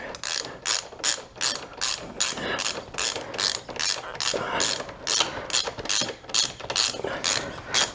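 A hand ratchet tightens centerstand bolts on a 2022 Kawasaki KLR 650, clicking in quick regular bursts of back-and-forth strokes, about sixteen close, crisp pulses with no talking.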